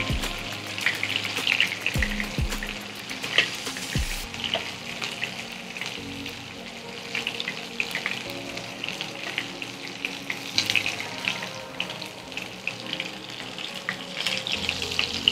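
Chicken fingers deep-frying in hot oil, a loud, dense, continuous sizzle with bursts of crackling and occasional knocks from the pan or utensils, close and alone without talk.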